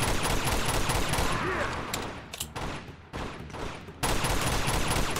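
Gunfire in the video game Uncharted 2, dense bursts of shots and loud action sounds filling the whole stretch, with a brief dip in the middle before the firing resumes.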